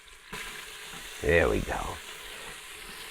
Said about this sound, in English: we're gonna throw in our celery and our onions